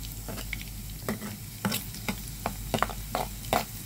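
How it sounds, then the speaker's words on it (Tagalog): Onions sauté in a hot pan with a continuous sizzle, broken by about a dozen sharp spatula scrapes and stirs at an uneven rhythm, all close and fairly loud. "magigisa ako ng sibuyas"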